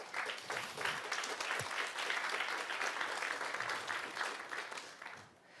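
Audience applause at an energy session of a Local2030 HLPF special event, a steady round of clapping that fills the room and fades slightly near the end, with no talk over it.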